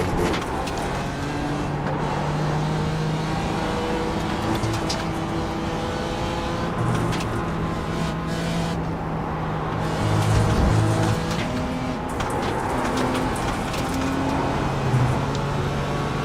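Mazda Miata production race cars in an iRacing endurance event at VIR drone through the gears. Engine tones rise and fall steadily over about sixteen seconds, with a louder pass near the middle.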